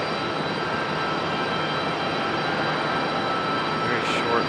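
An airplane lands on runway 5 left at Raleigh-Durham International Airport, a loud, steady engine roar held throughout, with a brief faint higher sound near the end.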